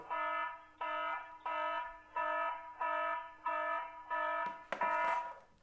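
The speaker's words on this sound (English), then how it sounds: "I love that alarm feature as well." A wireless outdoor security camera's motion alarm repeats a harsh, buzzing tone in regular pulses, about seven evenly spaced bursts, followed by a louder rattling clatter at the end.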